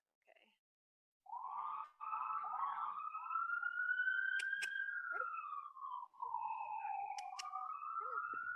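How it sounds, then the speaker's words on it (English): Sirens from a nearby fire station, a wailing tone that rises and falls steadily and sounds a short way off, continuing for several seconds with a few faint clicks in a quiet setting. "Sorry about all these sirens."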